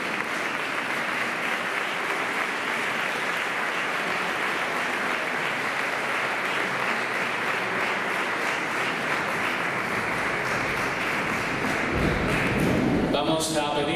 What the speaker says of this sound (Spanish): El aplauso más fuerte de la noche